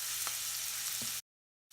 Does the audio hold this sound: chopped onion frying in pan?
yes